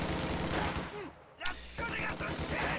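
Continuous rapid bursts of MG42 machine gun fire from a strategy video game crackle densely and loudly, with a brief lull in the middle before the rattling resumes.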